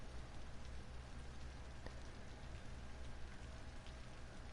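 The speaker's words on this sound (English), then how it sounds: "It start to rain is my favorite time." Rain in the city-building game Cities: Skylines, a faint, even, continuous patter of falling rain with no voices.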